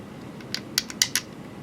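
Driving long screws into the diff box of an Axial Yeti RC car, a few short close creaking and clicking turns bunched in the middle of an otherwise quiet stretch.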